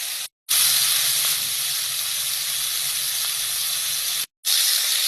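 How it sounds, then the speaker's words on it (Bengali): Prawns frying in hot oil for a bottle gourd and prawn dish, a loud, steady, close hiss and sizzle that keeps going almost without a break, cut off only by two brief silences. "আমার কিন্তু তেলটাও এবার গরম হয়ে গেছে। এবার আমি মাছটাকে ছেড়ে দিই সেখানে।"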